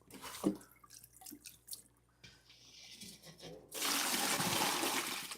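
Water pours out of a large bowl of freshly washed greens, starting with scattered drips and splashes, then a loud, steady rushing stream into a sink, close up with no talk.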